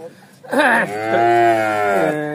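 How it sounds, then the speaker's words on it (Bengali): A cow at a dairy farm lets out one loud, drawn-out moo close by, rising at the start and holding a steady low tone for about two seconds. "মাশাআল্লাহ, খুবই ভালো ধরনের একটি গরু।"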